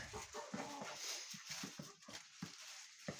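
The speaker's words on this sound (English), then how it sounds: "Now most of the chickens should be roosting." Chickens settling to roost give soft, low clucks and murmurs in a quiet, irregular patter close by, with no talk over them.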